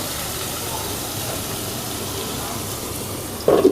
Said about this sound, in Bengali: দেখেছো কখনো এত অল্প তেলে পকোড়া ভাজা